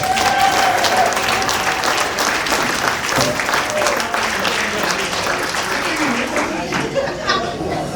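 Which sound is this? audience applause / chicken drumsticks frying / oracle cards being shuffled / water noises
audience applause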